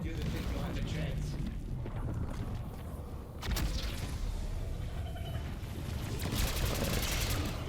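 Bursts of AK-74 automatic fire in the video game Black Ops 6 rattle at moderate loudness with a few heavier booms, mixed with game effects while someone talks over them.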